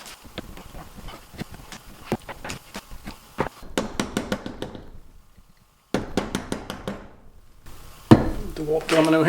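Rapid bursts of sharp hammer taps on wood, close and loud, in quick rhythmic clusters separated by short pauses.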